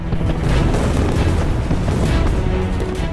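Dense, continuous rumbling booms of ships' cannon fire in a 3D recreation of the naval Battle of Trafalgar, loud and overlapping with no pause, like a sustained broadside barrage.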